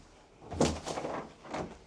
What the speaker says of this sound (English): this door goes to the attic